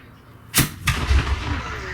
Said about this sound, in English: even though we've heard it go bang